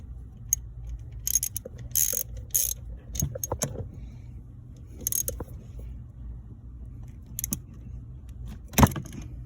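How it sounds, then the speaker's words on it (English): Ratchet clicks and metallic clinks ring out close by as shear bolts are torqued onto a car ignition lock, short bursts of ratcheting separated by pauses over a low background hum. "we're gonna put these shear bolts back in and torque them correctly so they actually shear off."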